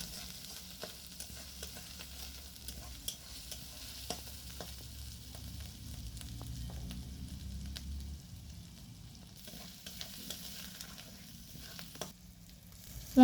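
Spice masala frying in oil for a thin papaya-potato singi fish curry, a faint, steady hiss with occasional soft stirring clicks throughout.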